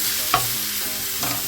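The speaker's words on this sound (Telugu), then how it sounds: "క్యారెట్ కూడా కొంచెం పచ్చివాసన పోయిన దాకా వేగాలి." Grated carrot frying in a pan for carrot rice, giving a soft, steady sizzle up close with a couple of brief scraping stirs and no voices.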